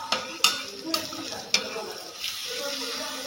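Ground chilli mixture thinned with water sizzles steadily on a hot griddle, with a few sharp clinks of a spatula or utensil near the start over the continuous frying hiss.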